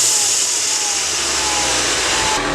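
A Ford EcoBoost Mustang's turbocharged engine runs steadily and loudly with a whooshing turbo hiss over the engine note, heard up close after a new part install, with no voices.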